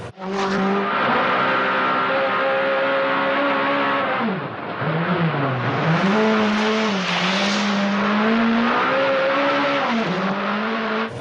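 Rally car drifting sideways through a bend with countersteering, its engine holding a loud sustained note that dips and climbs with throttle changes, tyres scrabbling beneath, close and uninterrupted.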